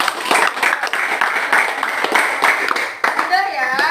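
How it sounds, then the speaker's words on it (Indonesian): A school class applauds a classmate with quick, uneven hand claps close by, mixed with children's chatter, then the clapping thins out as a voice continues. "tepuk tangan buat Rito"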